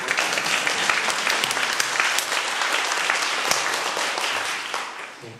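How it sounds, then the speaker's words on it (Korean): Warm, sustained applause from an audience at a Korean book-launch talk show, many hands clapping in a dense, crackling stream that stays loud and even before fading slightly at the end. "박수 한번 부탁드립니다"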